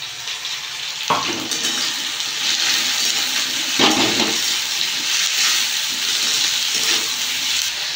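Tomatoes, green chili and ginger-garlic paste frying in a hot pan for a Bengali fish dish, a loud continuous sizzle and hiss with a few sharp bursts as ingredients hit the oil and are stirred.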